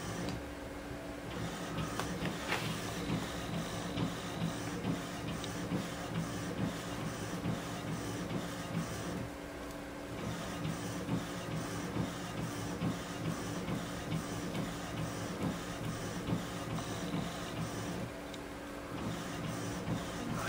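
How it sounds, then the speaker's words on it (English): A printer runs steadily and close, its rhythmic mechanical ticking and whirring repeating in even cycles for about twenty seconds, with brief lulls between passes and no talking. "when something's going on like that printer, it's got a rhythm, it's like da da da da"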